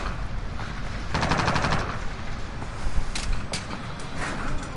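Video game gunfire comes in rapid automatic bursts and single cracks, with a sustained volley in the middle and a few sharp shots later over a steady rumbling background.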